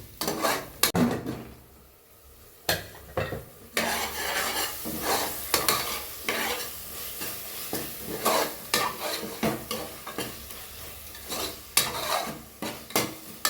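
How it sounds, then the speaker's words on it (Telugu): Ginger garlic paste frying in oil in a pot for mutton curry, with a spoon stirring and scraping in repeated bursts over a continuous sizzle, close and fairly loud, with occasional utensil clinks. "ఒక స్పూన్ అల్లం వెల్లుల్లి పేస్ట్ ఇదంతా పచ్చివాసన పోయి ఆయిల్ పైకి వచ్చేదాకా ఫ్రై చేసుకోవాలి దీన్ని"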